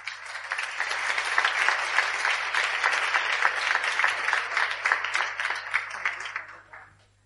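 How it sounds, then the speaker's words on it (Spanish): A live audience at a talk show claps in a full, sustained round of applause that holds steady for about six seconds, then fades out quickly at the end. "Un aplauso para ellas."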